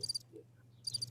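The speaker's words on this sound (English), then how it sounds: "yes, crickets." Cricket chirps sound as two short, bright bursts of rapid pulses at the start and end, separated by near silence, with a faint low hum underneath.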